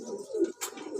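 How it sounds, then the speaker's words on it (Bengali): A black-and-white nafta-type racer pigeon gives soft, low throaty coos close by, two rolling phrases broken by a brief rustle. "নাপ্তা কবুতর টাইপের একটা কবুতর, সাদা কালোর ভিতরে মিক্স"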